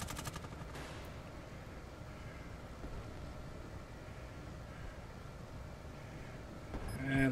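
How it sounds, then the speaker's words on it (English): Rapid bursts of video game gunfire crackle continuously over a dense, rumbling backdrop, sounding somewhat distant and steady, with no voices. "I hear gunfire coming from there"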